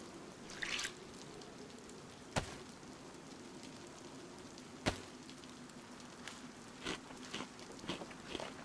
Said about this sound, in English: It is raining again.